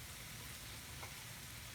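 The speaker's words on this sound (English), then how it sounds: "I'm going to take another lemon and I'm going to char it, which means I'm just going to put it inside the pan" A lemon charring in a hot oiled pan gives a steady, even sizzle and crackle of frying that runs close and constant throughout.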